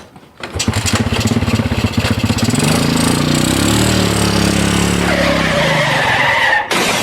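A motorcycle engine in a Sundanese comedy sketch runs loud and steady close by, with a rising rev partway through and a skidding, revving texture before it cuts off abruptly near the end.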